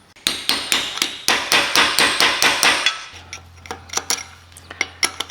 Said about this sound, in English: Now all I have to do is peck these little dents out here.